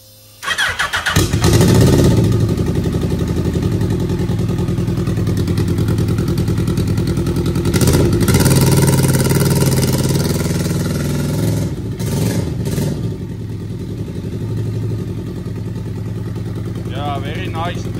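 A Suzuki Hayabusa turbo motorcycle with a rough three-cylinder engine fires up after a brief quiet start, then revs and settles into a loud, uneven idle close by for the rest of the clip.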